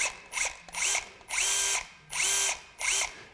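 A Metabo HPT 18V brushless impact driver whirs up in several short bursts, each spin ramping slowly up in pitch before cutting off, with a ratcheting mechanical edge.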